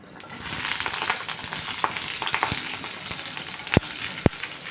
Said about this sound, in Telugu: అదే కడాయిలో ఆయిల్ వేసుకొని నల్లేరు కాడలు వేసుకొని వేపుకోవాలి